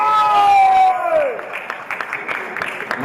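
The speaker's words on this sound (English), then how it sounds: "So a round of applause for those guys." A crowd at a powerlifting meet breaks into clapping and cheers in a hall, building after a held amplified tone and continuing as scattered applause under a voice.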